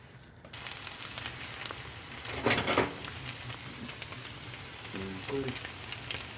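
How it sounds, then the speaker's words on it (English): A steady sizzle of a hot pan heating for a breakfast burrito, a continuous crackling hiss with a few louder pops, fairly close, with no talking. "let the pan heat up, get it nice and hot, which steam's coming off it now"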